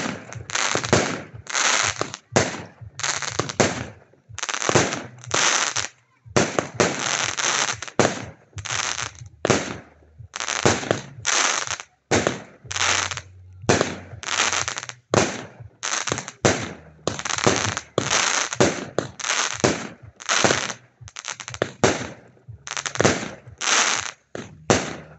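Consumer fireworks cake fired at a demonstration in Egerág, Hungary: a long, loud run of rapid shots and bursts, tightly spaced in clusters with brief gaps, continuing steadily for the whole stretch.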